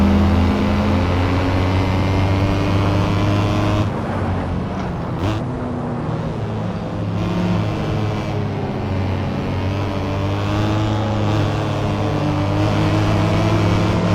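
A drift-tuned 185-horsepower VW Beetle in the Assetto Corsa racing game, running at Highlands Long against sportscars, holds a loud, steady engine drone with strong harmonic hum that dips slightly midway and then resumes. No talking.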